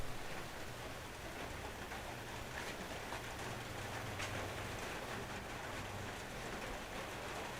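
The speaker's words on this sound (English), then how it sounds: "Is the rain loud enough?" Steady rain falls outside, a dense continuous hiss without a break, even and moderately loud throughout, with no talking.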